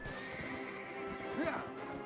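A horse whinnies in the Black Desert online game in a short rising and falling call, loud and close, over a steady bed of game music and ambience.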